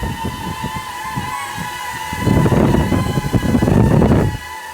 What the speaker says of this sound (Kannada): ಏನ್ ಗಾಳಿ